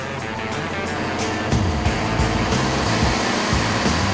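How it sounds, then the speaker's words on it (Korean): Diesel engine of a hairtail fishing boat off Geomundo, running nonstop at sea to power the fish-luring lights: a loud, steady, close drone with a heavy low rumble and broad hiss throughout, no voices. "일이 끝날 때까지 단 1시간도 꺼지지 않는 엔진의 소음은 엄청나다"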